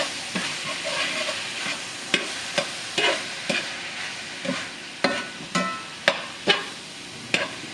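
A utensil stirs about 1.5 pounds of cooked hamburger meat in a pan, scraping at a regular rhythm with sharp clinks against the pan and a light sizzle underneath.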